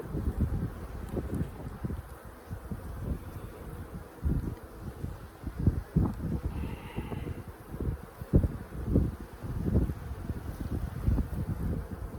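Honeybees buzz continuously around an opened hive during an inspection at a farm, a dense low hum with wind buffeting the microphone in irregular gusts.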